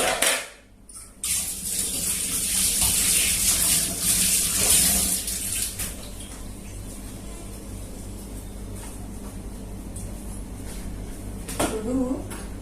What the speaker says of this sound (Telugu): ఒకసారి హ్యాండ్ వాష్ చేసుకుని వచ్చేస్తాను.